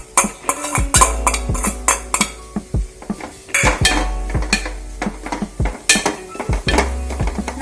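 A spoon scrapes and clanks repeatedly against a pan while Cassia tora thoran with grated coconut is stirred, a near, irregular rhythm of metallic knocks and scrapes with no talking.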